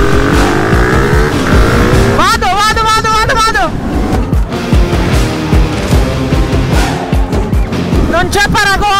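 Several motorcycles race head to head, a Tromox electric bike against a Stark and an HM 125, with loud, close engine whine and revving that rises and falls throughout, plus bursts of high-pitched acceleration and a voice shouting over the noise.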